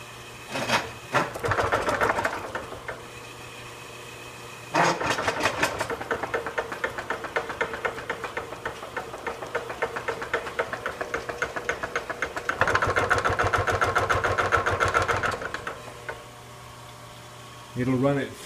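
A rebuilt Little Giant 25-pound power hammer runs in a smithy, its rapid mechanical thumping steady near 300 beats per minute, rising and easing in speed and volume over a constant motor hum, close and loud.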